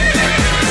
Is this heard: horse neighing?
yes